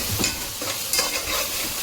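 Masala paste sautés in oil with loud, close sizzling and crackling, broken by brisk scrapes and clacks of a spoon stirring through the pan, and no one speaking.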